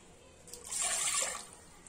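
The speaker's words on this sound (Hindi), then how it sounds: "इसमें अब हम डालेंगे" Water poured from a vessel into a pot of mashed lentils while cooking dal, a brief splashing pour that swells in the middle and tapers off, fairly close and alone.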